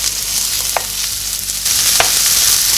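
Onions hitting a hot pan of vegetable oil while cooking Texas-style Salisbury steak: a loud, continuous hiss and crackle of frying, with a couple of sharp utensil clinks against the pan and the sizzle swelling partway through.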